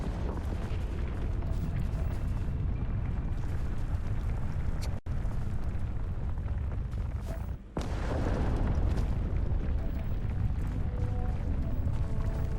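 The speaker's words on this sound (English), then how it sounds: "What is exploding?" An explosion in the Starfield video game comes through as a dense, continuous low rumble and roar filling the whole stretch, loud and steady with two brief dropouts, and no voices on top.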